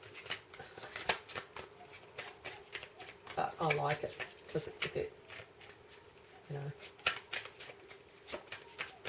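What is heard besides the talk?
shuffling tarot cards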